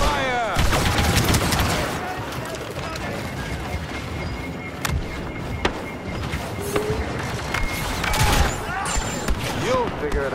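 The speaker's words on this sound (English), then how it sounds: "Open fire!" Blaster fire rattles through a Star Wars Battlefront II battle on Tatooine, with bursts and single shots cracking over a constant wash of combat noise, loud and close throughout.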